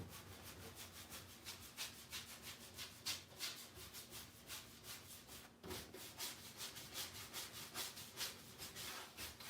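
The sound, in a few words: rubbing turquoise wax off a painted surface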